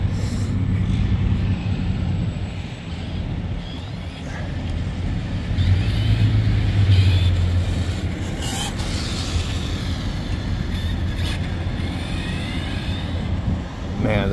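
An Arrma Senton 6s V3 RC truck runs at full throttle with a steady, high-pitched electric motor whine and rushing drivetrain noise, held loud and close over about fourteen seconds while a person talks over it.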